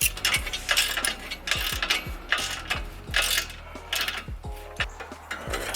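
A hand ratchet tightens the clamps on a Flowmaster Outlaw quad exhaust tip setup on an EcoBoost Mustang, giving quick bursts of sharp metallic clicking with small clanks, close by and without talk.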